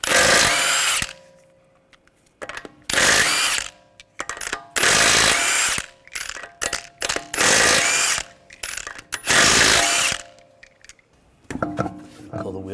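A power tool with a 22mm socket spins lug nuts off a Honda Pilot V6 wheel in loud repeated bursts, with short gaps between them and metallic clinks of nuts dropping, close up.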